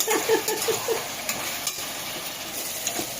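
Chana dal fries in oil in a pan with a soft, steady sizzle, while a spoon stirs with a few light scraping taps early on; no voices.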